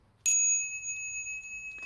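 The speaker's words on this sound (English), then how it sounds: "here's our bell song. This gets us ready to hear the Dharma." A Buddhist ritual bell, struck once before a Dharma lecture, rings out clearly and alone with a sharp strike and a long, pure sustained tone that slowly fades.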